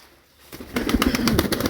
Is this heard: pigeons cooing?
yes